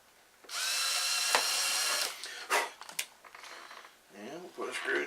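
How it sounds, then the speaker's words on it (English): Small electric drill whirring steadily as it bores into a plastic part of a Phoenix Models Genesis model kit, then several short, stopping bursts with brief pauses, a voice speaking between them. "Now, let's drill the other one."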